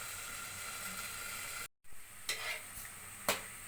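Rice thalipeeth flatbread crisping in a little oil in a kadhai: a steady soft sizzle with scattered spatula scrapes and a brief silent gap partway through, quiet and close.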